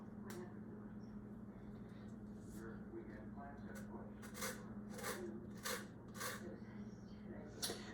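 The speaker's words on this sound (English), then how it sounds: "when you zest, you want to make sure that you're only taking the zest off." Citrus peel being zested on a grater, a series of brisk rasping scrapes repeating at an uneven rhythm over a steady low background hum.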